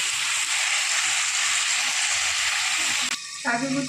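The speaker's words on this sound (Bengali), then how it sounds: "এই তেলের মধ্যেই এটা ভাজা ভাজা হবে ঢাকা দিয়ে" Eggplant and fenugreek greens frying in oil in a pan, a loud close sizzle that holds steadily for about three seconds, then cuts off abruptly before a brief voice.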